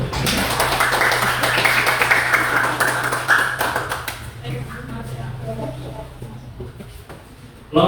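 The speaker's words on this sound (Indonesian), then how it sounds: "Oke, tepuk tangan." A classroom of students claps hands in a school lesson: a dense, brisk patter of applause for several seconds that fades out, with a teacher talking over and after it.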